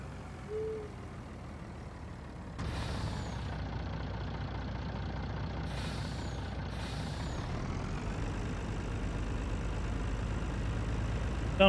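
A truck in the Farming Simulator 19 game releases three loud, sharp air-brake hisses over its low, steady engine rumble. The third comes as a quick double burst before the engine note rises slightly at the end.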